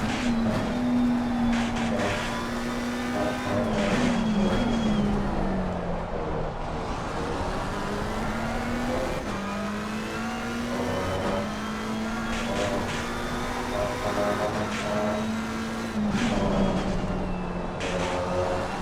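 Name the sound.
McLaren 720S race car engine at Misano, video game Assetto Corsa Competizione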